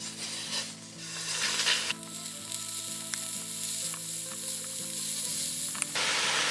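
Beef searing in a smoking-hot oiled pan for Chicago-style Italian beef, a loud steady sizzle and crackle of frying close by, no talk.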